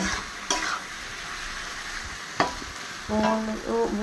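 Tomatoes and mutton sizzling in a pan while being stirred, a steady close sizzle with a couple of sharp spoon knocks against the pan, ending in a burst of quick scraping strokes.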